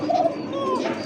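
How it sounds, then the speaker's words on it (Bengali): A domestic pigeon coos close by, a short low throaty call repeated within about a second, with no talk over it. "হ্যাঁ এটাও ধুমসে ডাকে, কিন্তু খুবই ছটপটা কবুতর দেখেন।"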